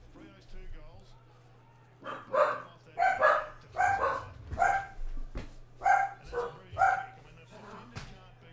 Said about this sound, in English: I better close the front blinds of the house, of the window, so that the dogs don't go barking throughout the game